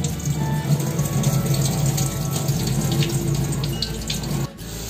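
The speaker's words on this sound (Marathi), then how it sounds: "त्यामुळे हे गाळून घेते पाणी" Water drains off soaked dried kardi fish in a steady, close splashing pour that runs throughout, then eases slightly at the end.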